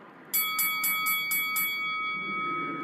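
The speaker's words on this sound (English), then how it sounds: "And there is the 4th inning bell" A bell strikes about six times in quick, even succession at a baseball game, marking the fourth inning, ringing clearly with sustained tones lingering after the strikes.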